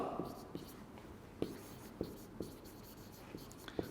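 Pen or marker writing on a board during a chemistry lecture, with sparse scratchy strokes and taps at irregular intervals, faint against quiet room noise.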